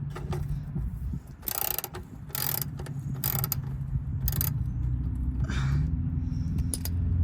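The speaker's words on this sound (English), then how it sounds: "I'm gonna get my wrench out and undo it. Okay, this is a 14mm socket, I think." A ratchet wrench with a 14mm socket works loose the oil drain bolt on a 2001 Toyota Sequoia, giving bursts of close, metallic ratcheting clicks over a low, steady background rumble.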